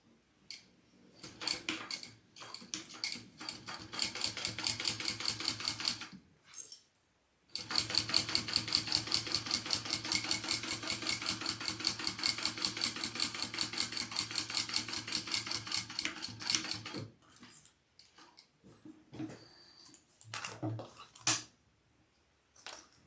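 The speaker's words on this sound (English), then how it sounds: "I'm going to top stitch that on" A sewing machine top stitches a crossbody bag in rapid, even needle bursts, running steadily for about ten seconds after shorter starts and stops, close and clear with pauses between runs.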